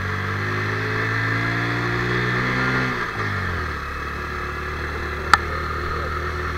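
A Honda CB110 motorcycle's small engine revs up close by, its pitch climbing steadily before a gear change drops it, then droning on at a lower, even pitch with a brief sharp click near the end.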